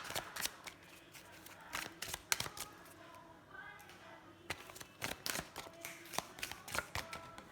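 Tarot cards shuffled by hand in quick, crisp bursts of riffling and slapping, close and fairly quiet, with a short pause midway.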